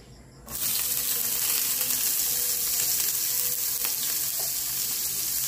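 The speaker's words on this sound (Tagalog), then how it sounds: "Igisa natin ang onion, garlic, kamatis." Onion, garlic and tomato hit hot cooking oil in a pan with a sudden burst of loud, steady sizzling that holds close and even for several seconds. No one speaks.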